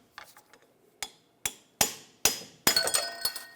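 Sharp metallic taps of a pry bar knocking the dust cup off a 2004-2009 Toyota Prius wheel hub, about seven clinking strikes at a quickening pace, close and loud.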